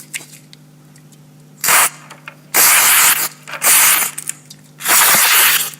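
Isopropyl alcohol sprayed onto a circuit board from a spray bottle, four short close hissing bursts of uneven length separated by brief pauses over a faint steady electrical hum.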